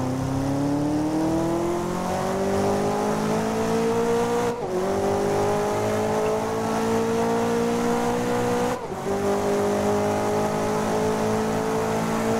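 A race car in GRID 2019 holds a loud, steady engine drone whose pitch climbs gradually through the gears, broken by two brief dips at the shifts, with no talking.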